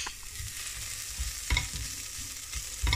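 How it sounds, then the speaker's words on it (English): Garlic fries in a pan, giving a steady close sizzle with a few soft thuds as it is stirred. "Now I'm going to put the garlic in."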